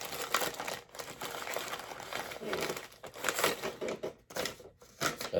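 A package holding collectible figures is torn and opened up close, with continuous crinkling and crumpling of plastic and paper packing in irregular bursts.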